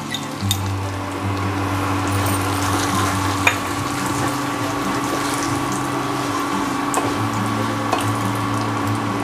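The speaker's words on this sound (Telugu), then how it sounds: "తాలింపు వేగిపోయింది. కరివేపాకు వేసుకున్నాం." Oil sizzles and crackles steadily in a pan as a tempering of curry leaves and fenugreek powder fries for homemade pickle, close and continuous with a low hum beneath and a few sharper pops and stirring clinks.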